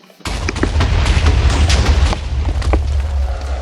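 Loud, rumbling Minecraft explosion blasts erupt suddenly and continue as a dense, booming barrage with crackling bursts throughout, during a fight with the Wither.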